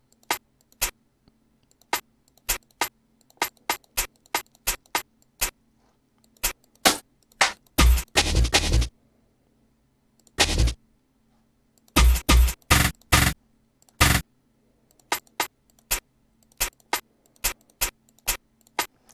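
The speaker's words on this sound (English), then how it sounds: "I like to start with my hi-hats just to do my little rolls." Rapid bursts of sharp, crisp programmed hi-hat ticks from DUBturbo 2.0 beat software play in irregular rolls and stutters, with occasional denser clusters, alone without voices.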